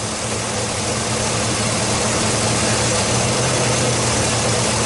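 A Chevrolet Silverado engine idles with a misfire, a loud, steady low rumble with a rough, uneven throb running through it, heard close up with no talking.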